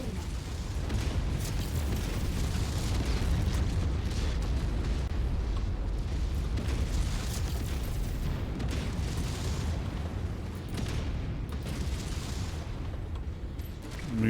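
Explosions as anti-dropship batteries are destroyed in the MechWarrior 5 battle game, heard as a continuous, dense rumble of blasts and booms that runs the whole time at low level.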